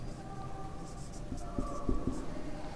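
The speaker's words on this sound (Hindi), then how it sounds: "तो यहाँ पे लिख देंगे" Pen or chalk writing out an answer during a Class 10 NCERT maths lesson, with faint scratchy strokes and a few soft taps over low background hum, no talking.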